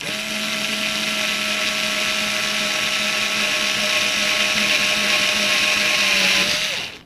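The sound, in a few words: drill driving a screw into a 2x4 piece of wood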